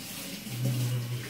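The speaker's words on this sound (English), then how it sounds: "Wash your hands again." Tap water runs steadily into a sink while hands are washed in a home kitchen, a close, continuous rush with a brief swell in the middle and no speech.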